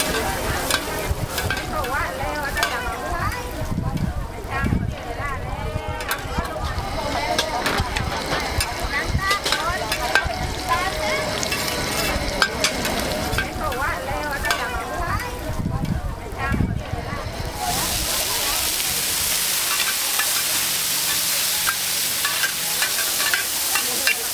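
Oysters fry and get stirred in a hot pan at a food stall in Hatyai, southern Thailand, with a steady loud sizzle, frequent scraping stirs and people talking nearby throughout.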